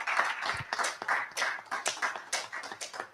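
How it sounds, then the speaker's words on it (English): Audience applause at a land surveying annual seminar, uneven clapping from a modest in-house crowd with bursts swelling and fading, fairly close and moderately loud with no talk over it. "we need to give another applause to Lawyer Jan for a great work done."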